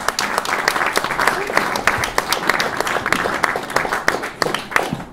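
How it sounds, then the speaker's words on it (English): Sustained applause from a gathered audience at a formal evening event at the Pakistan High Commission in London, dense overlapping claps steady for several seconds, fairly close. "A big round of applause."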